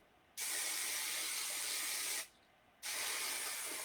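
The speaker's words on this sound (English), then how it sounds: "I will spray it for you so you can see how the fibers react on a older wig." A spray bottle mists an older synthetic fiber wig in two long continuous hissing bursts, the first about two seconds, then a short pause before the second, close and clear.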